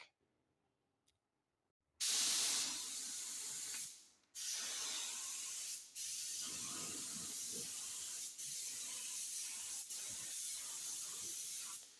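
A spray gun hisses paint onto a 1996 Ford F350 frame in long continuous bursts, broken by a few short pauses and near silence at the start; steady, close and fairly loud.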